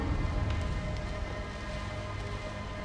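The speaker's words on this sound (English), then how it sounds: "it's just a little rain" Steady rain falls on a surface in a 1960s Southern US setting, a dense continuous patter of drops that stays even and fairly loud throughout with no voices.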